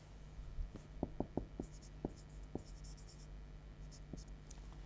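Pen or chalk writing out a Class VIII maths solution, a faint run of quick sharp taps and short scratchy strokes at close range, with a few small squeaks between them.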